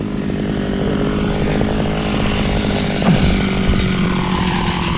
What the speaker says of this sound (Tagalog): 3 makina yung nakatutok na patubig sa okra.